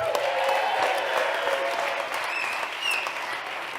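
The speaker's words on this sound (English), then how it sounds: "let's clap it up for Black Diamond, y'all." Audience applause at a winter speaker series talk hosted by an outdoor sports shop, a steady dense wash of clapping from a crowd filling nearly four seconds, loud and even, with a few faint whistles near the end.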